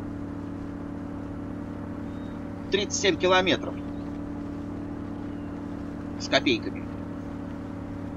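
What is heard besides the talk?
Chevrolet Suburban engine driving in mud, Spin Tires video game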